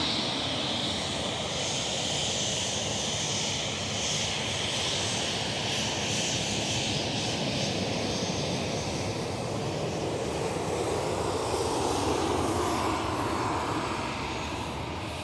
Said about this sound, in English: KLM 737.